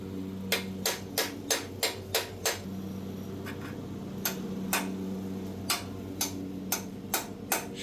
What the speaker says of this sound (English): I had to hammer on it for about 20 minutes to get it to separate